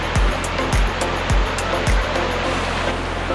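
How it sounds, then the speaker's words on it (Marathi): Heavy rain pours down over an outdoor spot where traditional net fishing is underway, making a steady, dense broadband hiss with a few dull low thumps recurring at a regular pace. "पाऊस जाम पडतोय वरती"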